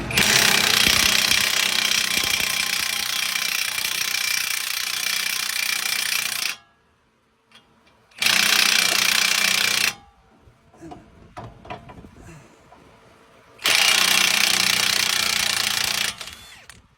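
A power impact tool loosening the 30 mm front axle nut on a 2016 Toyota Corolla, loud rapid hammering bursts of several seconds each, separated by pauses filled with faint clinking and handling noises.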